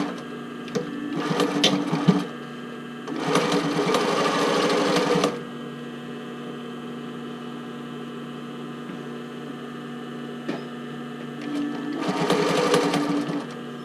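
Sewing machine stitching a knit sailor shirt in short bursts, a brief run, then a longer steady run of about two seconds, and another burst after a quiet pause, over a low constant hum.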